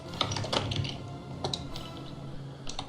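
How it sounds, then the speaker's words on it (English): Computer keyboard typing, quiet and close, with scattered light key taps in an irregular rhythm over a low steady room hum. "gonna have trouble typing quietly and talking at the same time"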